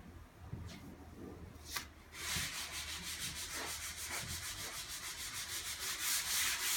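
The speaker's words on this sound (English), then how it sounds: "what I'm doing now is just wiping off the mineral spirits and" A rag wipes mineral spirits and cut lacquer off the wet-sanded top of a Baker sideboard, giving close, steady rubbing strokes that settle into a rhythmic swishing with no talking.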